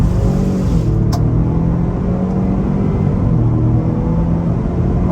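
A 2023 Ford Expedition Timberline SUV accelerating hard, its engine a deep, loud, continuous rumble from inside the cabin for a few seconds.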